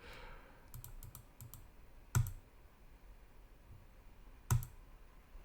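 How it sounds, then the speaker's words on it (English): Sharp mouse clicks during website account sign-up, a quick burst of light clicks early on followed by two louder, isolated clicks spaced a couple of seconds apart over quiet room tone. "click on next."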